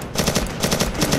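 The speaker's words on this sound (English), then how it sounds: "Sprint and shoot!" Rapid automatic gunfire in the video game Way of Hero, a loud, close, continuous burst of shots rattling out at an even rhythm.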